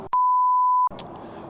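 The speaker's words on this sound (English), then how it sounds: "Oh, so somebody's ringing me." A phone ringing as one sustained electronic beep tone, loud and clean, lasting under a second before cutting off, followed by a faint short chirp and low room noise.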